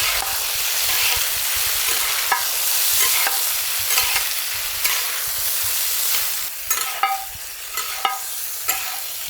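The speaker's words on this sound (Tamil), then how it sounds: "கொஞ்சமாக ஆயில், 2 பெரிய வெங்காயம், சிக்கன் அப்படியே போட்டு கறக்கலாங்க" Chicken pieces and two large onions frying in a little oil for a village-style chicken curry: a loud, dense, continuous sizzle with intermittent clinks and scrapes of stirring, close and steady throughout.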